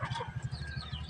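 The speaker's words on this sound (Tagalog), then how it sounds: "yung mga dating sisiw, malalaki na sila guys" Young chicks hatched in an incubator, their rapid high cheeping repeating in a quick steady series of short peeps, close and alone with no talk.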